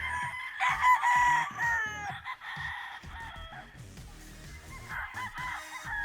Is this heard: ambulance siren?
no